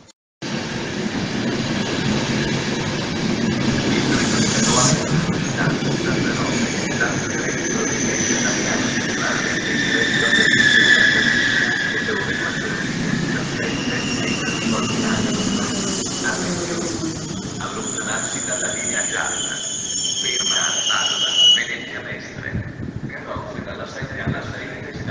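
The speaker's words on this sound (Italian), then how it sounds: "Il treno Eurocity" An Eurocity train pulls into the platform at Vicenza station, a sustained rumbling roll with high metallic brake squeals rising over it, close and loud throughout, and station announcement speech in the background.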